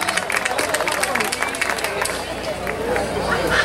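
An audience applauds for the tenor saxophonist at a live concert: a steady wash of clapping and crowd noise, moderately loud and continuous, with some chatter mixed in.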